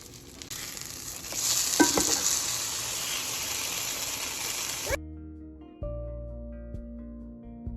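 Sourdough grilled cheese sandwich frying in a cast iron skillet, pressed under a lid: a steady close sizzle with a brief scrape or stir, then cut off sharply and replaced by quiet music.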